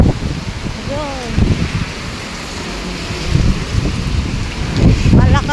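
Strong typhoon wind gusting through a street in Kaohsiung, Taiwan, a steady broadband roar with rustling and rattling debris, swelling in louder gusts, while a person talks over it.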